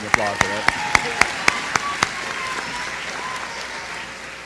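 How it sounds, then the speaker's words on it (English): A graduation ceremony crowd applauding at a high school commencement, a broad wash of clapping with a few sharp close claps early on, tapering off toward the end. "We can applaud for that."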